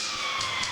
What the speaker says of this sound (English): And there is the siren ending the first period.